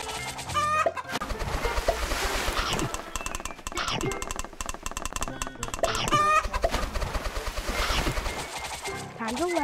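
Video game chickens on an egg farm cluck and squawk over busy game sounds, with repeated rapid bursts and rising chirps at a steady, loud level.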